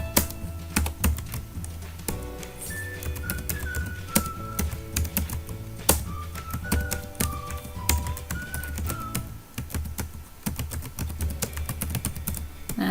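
Rapid, uneven typing on a computer keyboard while filling in an Excel spreadsheet table, close and clear, with bursts of key taps and short pauses throughout.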